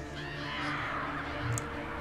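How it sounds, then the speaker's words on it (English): Crows caw in a video game, their harsh calls sitting over a steady, humming game soundscape at moderate level, with a brief sharper chirp near the end. "Oh, I think the birds are coming back."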